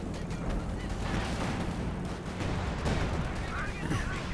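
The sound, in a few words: pack howitzer artillery fire in video game Company of Heroes 2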